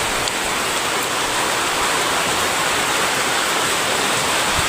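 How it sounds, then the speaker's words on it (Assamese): Steady, dense rain falls outside, a loud, even hiss of drops with no pauses that fills the whole stretch, with no voices. "এনে বৰষুণ দি আছে বাহিৰত"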